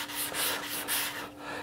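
A small sanding block is pushed and pulled in an X pattern across a Telecaster guitar body, giving quick rhythmic rasping strokes, close and alone.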